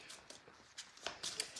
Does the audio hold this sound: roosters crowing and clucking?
no